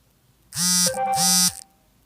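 Mobile phone notification tones: two loud, close electronic tone bursts about half a second each, back to back, heard alone without talk.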